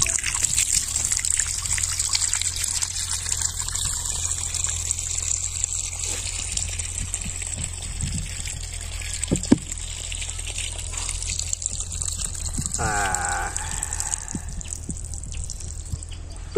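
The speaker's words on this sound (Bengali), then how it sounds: "এই দেখেন আমাদের পানি বের হচ্ছে অনেক সুন্দরভাবে।" Water trickles and splashes steadily from the outlet of a homemade free energy water pump, a continuous close flow with a few faint knocks.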